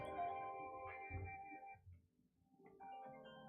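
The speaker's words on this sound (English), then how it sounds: "getting a phone call." A phone ringtone sounds for an incoming call, a faint melodic tone pattern that repeats with a short pause in the middle.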